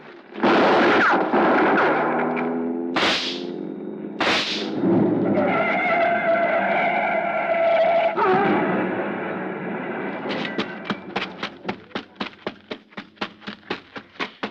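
Gunshots in an old radio crime drama ring out as a sharp report with a booming echo, then another. Near the end a rapid train of regularly spaced cracks fades away.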